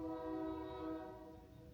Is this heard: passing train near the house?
yes